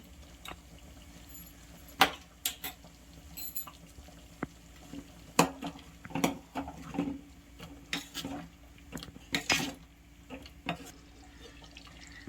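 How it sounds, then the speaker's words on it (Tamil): A pot of potato sambar bubbles and pops irregularly, with scattered sharp clinks and ticks among the gurgling. "உருளைக்கிழங்கு சாம்பார் நல்லா கொதிச்சிச்சு"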